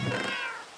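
A single cat meows once, close and clear, a short tonal cry that fades within a second, with no other sounds around it.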